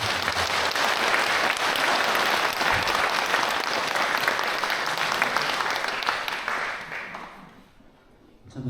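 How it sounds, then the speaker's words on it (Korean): A church congregation at a Lenten retreat at Samcheon-dong Catholic Church in 2026 gives a big round of applause to welcome the parish priest, a loud, dense clapping that holds for several seconds and then fades out. "큰 박수로 환영해 주시면 감사하겠습니다."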